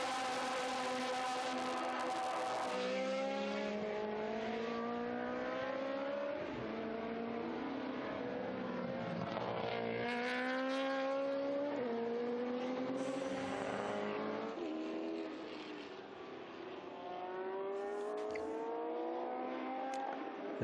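Historic Porsche racing cars at the Estoril circuit, a GT2 entry among them, their engines wailing loudly and steadily with repeated rising and falling revs through gear changes, held close the whole time.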